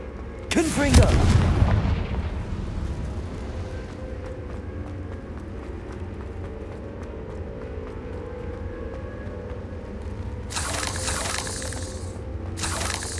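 A Confringo blasting spell explodes in Hogwarts Legacy with one loud, close boom that rings out, followed by quieter ambient rumble and a later burst of clattering noise.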